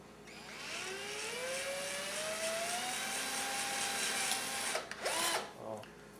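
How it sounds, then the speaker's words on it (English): A handheld power drill boring holes into a metal can, a whining motor that rises in pitch and runs steadily for several seconds, then a couple of shorter bursts near the end, close and moderately loud. "We've now drilled the 4 holes"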